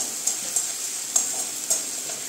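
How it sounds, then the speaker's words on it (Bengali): Tomatoes being stir-fried with onion, garlic, ginger and green chilli paste for a Bengali dish, a steady soft sizzle with four light scraping stirs spaced through the short stretch, no voices. "এই মশলাগুলো ভালো করে আমি এখন এইগুলোর সঙ্গে কষিয়ে নিচ্ছি।"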